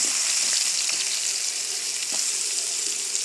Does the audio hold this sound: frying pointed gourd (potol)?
yes